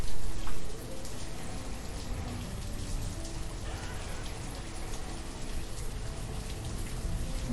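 Steady rainfall in the city-building game Banished, a dense, even patter of drops over a soft low rumble, loud at the start and then continuous without talk.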